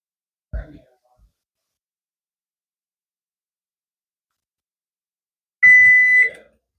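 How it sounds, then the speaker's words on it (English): Kitchen timer going off while noodles cook for sausage Alfredo, a short steady electronic beeping tone near the end, loud and close, after a brief clatter and quiet room. "and that was the timer"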